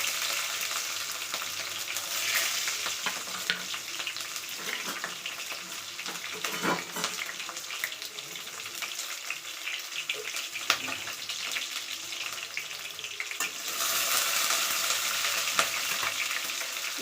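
Chopped onion and green chillies frying in oil with urad dal for chitranna rice, a steady broad hiss of sizzling that runs throughout, swelling louder toward the end, with occasional faint stirring clinks.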